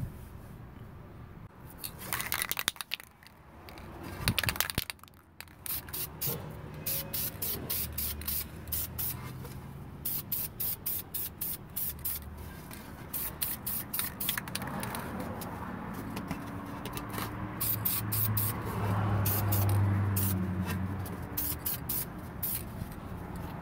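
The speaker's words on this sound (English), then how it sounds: "I'm going to be spraying the black backsplash with this" An aerosol can of black spray paint hisses in many short, rapid bursts up close onto a car brake backing plate, with brief pauses and some clattering handling noise between sprays.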